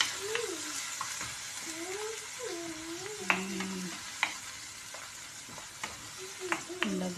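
Onion and garlic sautéing in a pan, with a steady close sizzle broken by sharp scrapes and taps of a stirring utensil, while a faint wavering tone drifts in the background.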